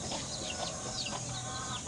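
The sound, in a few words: shamo chickens clucking on a backyard farm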